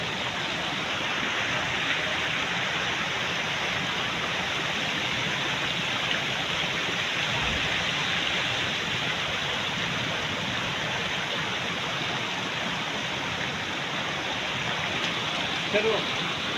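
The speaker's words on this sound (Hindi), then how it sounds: "ये नीचे पानी है ना, पानी के अबशारे, आपको पानी के अबशारे भी दिखाता हूँ।" A waterfall in Jabori Valley, Mansehra, pours with a steady, dense rushing hiss that fills the air continuously, loud and unbroken, with no clear voices above the water.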